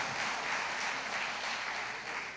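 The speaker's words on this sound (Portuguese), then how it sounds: "Vamos aplaudir ao Senhor pela vida do Wagner." A church congregation applauds, a steady, faint wash of many hands clapping with no voices standing out.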